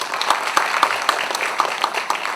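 A small audience at an apartment redevelopment briefing claps steadily for a couple of seconds, a moderate patter of hands with no voices over it.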